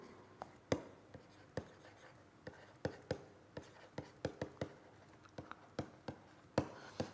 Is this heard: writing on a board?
yes